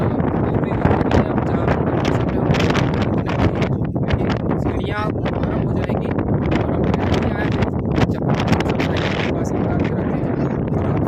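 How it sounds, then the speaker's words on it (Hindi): Strong gusting wind buffets the microphone high on Girnar mountain, a loud continuous roar and rumble throughout, with people talking over it. "सोच सकते हैं इतनी तेज हवा चल रही है पहाड़ी की।"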